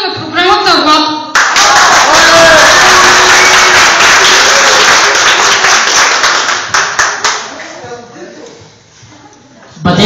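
Loud, sustained applause fills a hall after an announcer introduces a program organizer at a ball, rising sharply and holding dense for several seconds before thinning out; a voice speaks briefly at the start and end.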